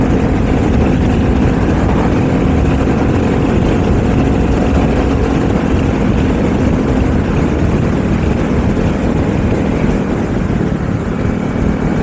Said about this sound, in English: There's so much wind noise.